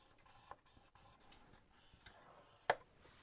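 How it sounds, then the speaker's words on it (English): Cardstock being scored for an 8x10 baby album makes faint soft rubbing and scraping strokes in a quiet room, ending in one sharp click. "we're going to score the 8-inch side on both of them at a 1/2 inch"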